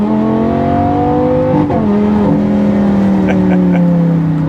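A 2014 Lamborghini Gallardo LP550-2 accelerates at half throttle, its loud, close engine note climbing steadily, dipping briefly at a gear change, then rising again with a strong, smooth tone.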